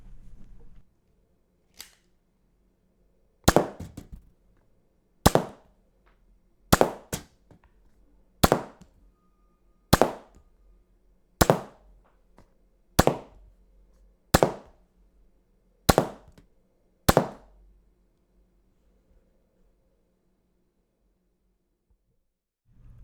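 A Nerf Triad blaster fires Elite darts from its first barrel, giving ten sharp, evenly spaced pops roughly every second and a half, each loud and close with a quick decay, over a quiet background.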